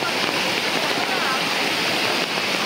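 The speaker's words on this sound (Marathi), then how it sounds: "नदी एकदम ओव्हरफ्लो झालेली आहे." An overflowing river rushes past in a continuous, loud hiss of turbulent water, steady and close for the whole stretch with no other sounds breaking through.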